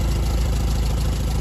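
A Farmall 404 tractor engine idles steadily and close, giving a dense, continuous low rumble with a faint rhythmic knock and no one speaking.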